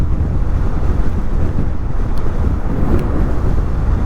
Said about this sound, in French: aujourd'hui il y a vraiment du vent, c'est sale, c'est très très sale.